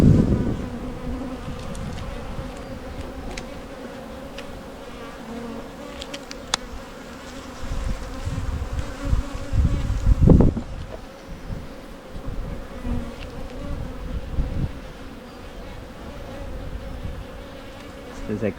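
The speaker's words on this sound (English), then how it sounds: "these are lovely new bees" Honey bees drone in a dense, continuous buzz at an opened hive during an inspection, close to the ear, with individual bees flying past and brief handling bumps.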